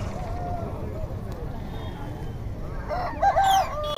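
A rooster crows at a country chicken market in Nallapadu, one short crow rising near the end over steady market din and voices.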